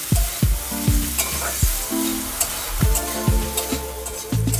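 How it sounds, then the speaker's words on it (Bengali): Long-cut bitter gourd strips fry in oil with a loud, close crackling sizzle, broken by repeated sharp clanks of a metal spatula against the pan at an irregular stirring rhythm. "আমি তেলের ওপরে উচ্ছেটাকে দিয়ে দিলাম, দিয়ে এবার আমি উচ্ছেটাকে লাল করে ভেজে নেব।"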